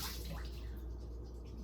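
Water runs steadily into a salad spinner holding fresh basil leaves, a continuous splashing rush close by, with a voice faintly present underneath.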